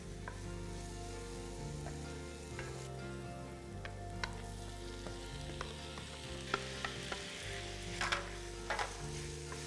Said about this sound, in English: So we're only sweating the onions, not changing the color. Now we add all the flavors, the chili, the ginger, the garlic.